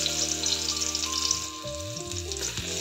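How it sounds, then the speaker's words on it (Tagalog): Garlic drops into hot oil in a pan and sizzles loudly right away, a dense bright crackle that carries on close up with no talk over it. "Karon magbutang na tag ahos kay init naman atong mantika."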